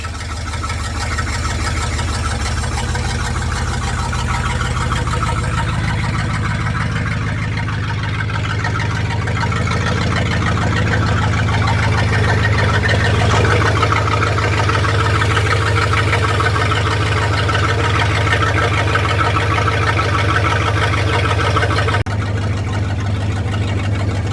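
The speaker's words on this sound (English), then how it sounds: "No accelerator pump. But it idles." A Ford F600 truck engine with no accelerator pump idles steadily, a continuous low rumbling drone that holds even throughout and shifts slightly near the end.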